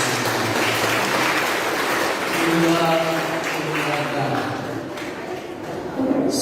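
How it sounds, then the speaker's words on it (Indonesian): Applause from a church congregation at a farewell ceremony for the departing parish pastor of St. Paulus parish in Palu, a steady broadband wash of clapping throughout, with some faint tonal sounds mixed in. "Tepuk tangan untuk Dia."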